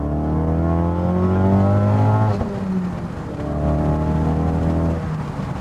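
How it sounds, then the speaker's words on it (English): A turbocharged Ford Focus RS with a 3-inch exhaust drones loudly from the cabin as revs climb steadily, cuts briefly on a gear change, then pulls again with a rising, buzzy exhaust tone. "I've never been a fan of the noise that 3-inch exhausts make when you're just sort of cruising."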